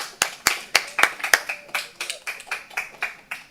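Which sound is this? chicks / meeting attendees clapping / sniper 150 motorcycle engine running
meeting attendees clapping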